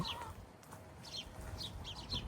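Hens cluck softly on a small chicken farm in Italy, several short calls scattered over a quiet outdoor background with no speech.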